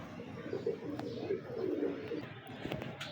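Breeder pigeons and their chicks coo softly in a loft, giving low, repeated murmuring calls close by, with faint bird chirps and some background noise.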